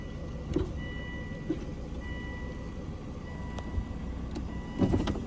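A Volvo's electric power window motor whirs steadily at close range, with a few brief clunks and knocks along the way.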